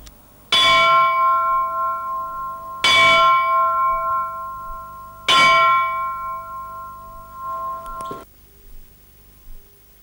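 An old schooner's ship bell is struck three times at even intervals. Each loud, bright clang rings on and decays slowly, and a final muted clunk closes the sequence.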